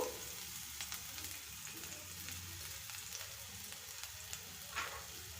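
Chopped garlic frying in a pan for onion Manchurian: a faint, continuous crackling sizzle with light stirring scrapes and a few small clicks, quiet and unbroken by speech.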